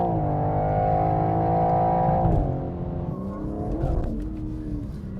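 A BMW M3/M4 Competition engine, 510 hp, rear-wheel drive, roars steadily, dips briefly in pitch, then revs up again and climbs as it accelerates, loud and close.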